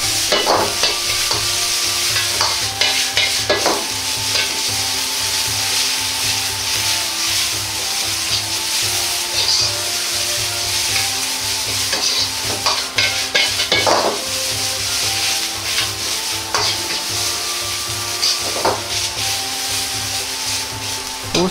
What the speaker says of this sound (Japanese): タケノコとピーマンから出る余分な水分を飛ばすイメージで炒めます。